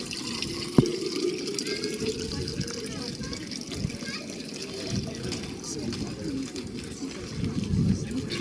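Water pours steadily from an ancient public drinking fountain on a street in Pompeii, a continuous splashing stream close by, with people talking over it.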